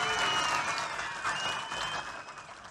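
Audience applause at a public event for the Babu Jagjivan Ram birth anniversary, a dense, steady wash of many hands clapping that carries through without any voices.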